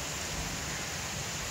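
Steady heavy rain pours down in still air during a thunderstorm in Jessore, a dense, even hiss that stays constant and fairly quiet throughout with no gusts.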